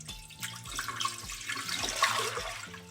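Four cups of water pour steadily into a pot for orange brandy cranberry sauce, a continuous splashing gush close by, with no talking over it.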